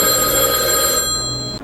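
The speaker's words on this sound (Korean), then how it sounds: "이때 어디선가 전화기가 울리고" A telephone rings loudly and close by, a bright continuous electronic bell that sustains for most of the moment before cutting off abruptly near the end; no voices are heard.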